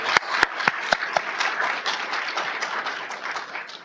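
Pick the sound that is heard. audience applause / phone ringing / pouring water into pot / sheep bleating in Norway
audience applause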